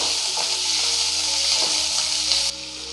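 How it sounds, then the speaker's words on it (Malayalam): Green chillies and onions sauté in hot oil with a close, even, steady sizzle and a few faint scrapes. Pomegranate poriyal is being cooked, and a soft musical tone runs beneath the frying. "ഇതിലേക്ക് നമ്മൾ എടുത്തു വച്ചിരിക്കുന്ന പച്ചമുളകും ഉള്ളിയും കൂടെ ചേർത്ത് നല്ലതുപോലെ ഒന്ന് വഴറ്റിയെടുക്കാം"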